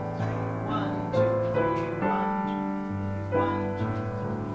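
An orchestral passage from Puccini's opera Il Tabarro sways in a gentle rocking barcarolle triple rhythm, sustained string and wind chords shifting smoothly at moderate volume with no talk.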